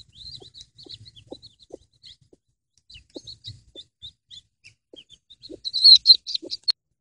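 Newly hatched chicks peep in a steady stream of high chirps, with occasional low clucks from a hen, close by and growing louder and denser toward the end.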